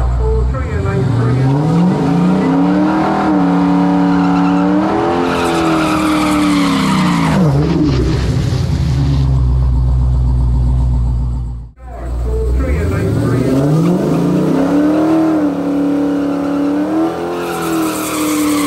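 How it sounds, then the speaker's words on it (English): A Dodge Challenger SRT launches at a radial drag racing event, its loud engine roaring and rising through gears with tire squeal, a brief gap between runs, then another hard roaring launch close by, with announcer talk over the track. "Next car coming around is going to be a Dodge Challenger."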